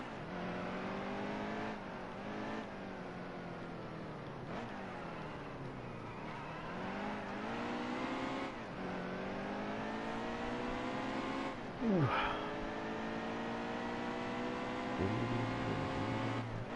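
Stock cars in NASCAR Heat 2 racing at the Charlotte Roval, a steady loud engine drone with rising and falling pitch as the car accelerates, brakes and downshifts through corners, other engine notes layered in and a short squeal near the twelve-second mark.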